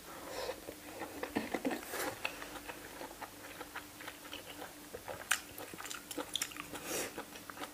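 Someone chewing and biting into grilled squid balls and enoki mushrooms coated in Korean gochujang, with close, soft wet crunches and smacking in an irregular rhythm and no talking.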